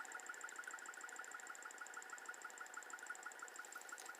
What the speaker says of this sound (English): this is the motor, the Newman motor, turning over this motor and running the fan with the capacitor